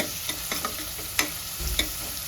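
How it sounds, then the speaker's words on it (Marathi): Two finely chopped onions frying in a little hot oil, with a soft steady sizzle broken by a few sharp scraping stirs of a spoon in the pan. "तेल तापलेलं आहे कांदा टाकायचा"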